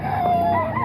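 A rooster from an SBR gamefowl bloodline, one of two chickens, gives a brief crow that fills the short moment, loud and close.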